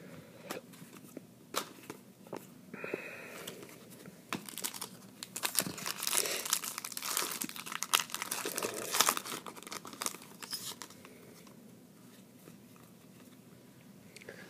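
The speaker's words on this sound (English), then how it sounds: "So we opened all the packs." Foil wrappers crinkle and tear as 2014 SP Authentic football trading card packs are opened, a busy run of crackling and rustling that swells in the middle and thins out toward the end.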